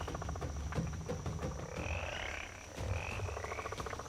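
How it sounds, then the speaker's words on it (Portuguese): Frogs and toads croaking in a chorus, rapid repeated croaks and pulsing calls overlapping steadily, with higher trilling calls drifting in and out at moderate distance. "Anfíbios como sapos e rãs também se beneficiam."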